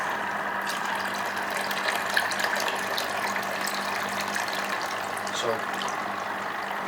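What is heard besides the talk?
water filling a container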